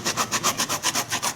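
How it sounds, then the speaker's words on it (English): Sanding the sole of a Russell Moccasin Thula Thula minimalist boot during resoling: about nine quick, even back-and-forth abrasive strokes, close and steady, with no talking. "I can control where I'm sanding"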